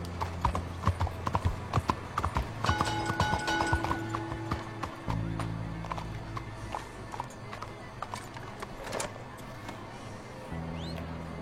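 A ridden horse's hooves clip-clop in a quick, uneven rhythm, close and fairly loud. A low rumbling hum runs beneath the hoofbeats throughout.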